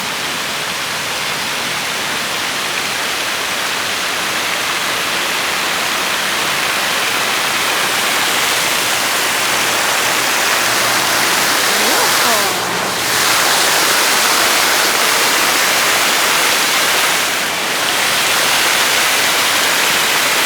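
Hot water runs steadily into a hotel-room jacuzzi, a loud, broad rushing hiss that fills the whole stretch with only slight swells.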